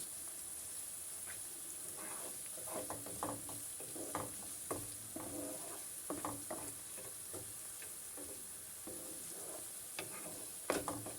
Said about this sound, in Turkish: Soğanımızı kavuruyoruz.